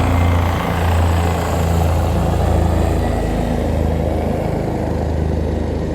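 Yellow helicopter flying over outdoors, a loud steady low rotor thrum and engine drone filling the whole stretch without pause, fairly close overhead with no talking.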